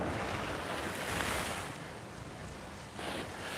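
Ocean waves breaking on a Hawaii beach at Kapiolani Park, Waikiki, a continuous soft wash of surf with wind noise, swelling and easing with a fresh surge near the end.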